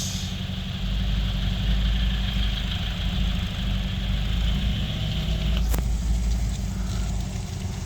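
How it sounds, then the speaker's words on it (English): A car engine idles steadily and quietly up close, a low even rumble that runs unbroken throughout, with one brief sharp click partway through. "Quiet engine."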